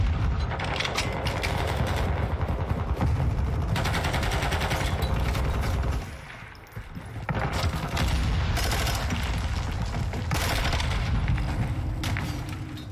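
Video game gunfire in a ranked match: heavy, continuous automatic shooting with booming impacts, loud and nearly unbroken apart from a brief lull midway before the barrage resumes.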